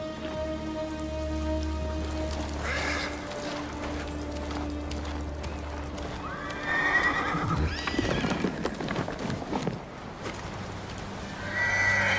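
A horse whinnies loudly amid clopping hooves in the video game Ghost of Tsushima, with steady rain pattering in the background and a second neigh near the end.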